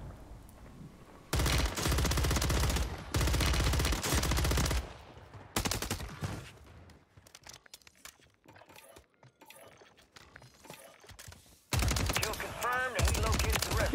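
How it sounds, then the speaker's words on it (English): AK-47 Kastov 762 automatic gunfire in Warzone 3, several loud, close sustained bursts separated by quieter stretches of clicks and handling sounds, with a final volley near the end. "showcasing the AK-47, aka the KASTOV 762. Man, this thing has absolutely zero recoil"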